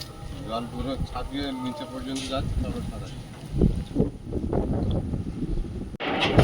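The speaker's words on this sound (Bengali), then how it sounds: "আজকে হাওয়াটা হচ্ছে দেখো যেন মনে হচ্ছে ঝড় হচ্ছে" Strong, storm-like wind blows outdoors at night under a cloudy, moonlit sky, a steady broadband rush with gusts swelling in the second half while voices talk over it.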